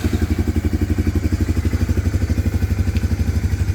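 A 1995 Honda Fourtrax 300 ATV, left sitting for 15 years, idles with a loud, steady single-cylinder putter, even rapid thumping pulses close by and no voices.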